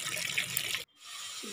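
Water from a tap pours steadily into a bucket in a village home, a close, bright splashing rush that cuts off briefly, then resumes more softly.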